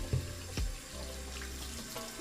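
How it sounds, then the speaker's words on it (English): Tap water running into a soap dish while cleaning makeup brushes, a short splashing, trickling flow close by with a couple of sharper splashes near the start. "And I add a little bit of water."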